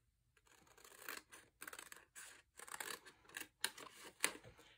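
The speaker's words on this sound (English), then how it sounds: "These I'm going to cut out with my old trusty Fiskars stamp edged scissors" Fiskars stamp-edged scissors snip through patterned scrapbook paper in a run of separate crisp cuts with short pauses between them, close and fairly quiet, with no one talking.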